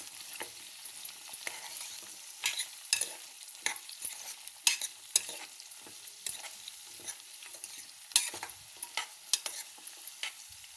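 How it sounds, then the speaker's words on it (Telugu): Cut bottle gourd being stirred with onion and curry leaves in a pan, a quiet hiss under frequent sharp scrapes and taps of a spoon, irregular and close, no speech. "ఆనియన్ కరివేపాకు వేసుకుందామండి కట్ చేసుకున్న సొరకాయ అంతా బాగా కలుపుకుందామండి"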